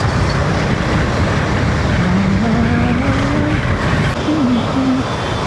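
Heavy evening traffic on a crowded Indian highway rumbles steadily nearby, with a few rising tonal whines from passing vehicles or horns over the continuous roadway noise.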